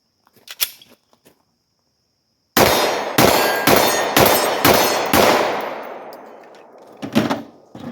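Glock 17 full-size pistol fired at an outdoor range at about 18 yards, six sharp loud shots in a quick, fairly even rhythm, with a ringing tail after the last, a faint metallic clang later and some quiet handling noise before.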